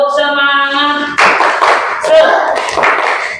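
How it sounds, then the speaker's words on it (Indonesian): Classroom rhythmic group clapping for a cheer, a burst of hand claps following a sustained tonal sound, with children's voices mixed in and talk over the claps. "kita tepuk semangat dulu. 1, 2, 3. Tepuk semangat."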